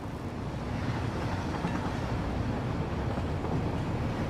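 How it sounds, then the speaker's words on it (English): A train in the factory-building game Satisfactory runs along its track, producing a continuous rolling rumble with faint rhythmic clatter, steady and fairly close, with no speech. "This train ought to do what I need."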